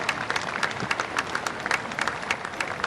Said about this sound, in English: Applause again from the crowd.